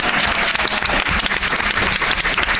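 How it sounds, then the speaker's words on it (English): A convention panel audience bursts into loud, dense applause, many hands clapping together in a steady, close roar for a few seconds with a few whoops mixed in. "Give yourselves a big round of applause for being here."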